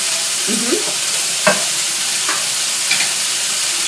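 Pancetta browning in olive oil in a pan, with a loud, steady sizzle and fry, broken by a few brief stirring scrapes, close and continuous with no talk.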